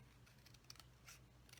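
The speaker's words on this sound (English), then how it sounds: "So the first thing I'm going to do is cut up this end and cut down this end." Scissors make faint, quick snips through card paper for a sea life diorama thank-you card. A few quiet close cuts sound in near silence, ending with a slightly louder snip.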